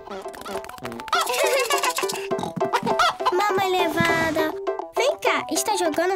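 A cartoon hen clucks in a Peppa Pig Mrs Happy Hen toy game, with bursts of clucking and squawks mixed with children's voices and animated music, fairly loud and busy throughout.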